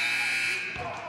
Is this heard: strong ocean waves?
no